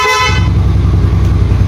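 Loud, close single blast of a Yamaha Mio Sporty scooter horn, roughly a third of a second, giving way to the scooter's continuous low idling engine.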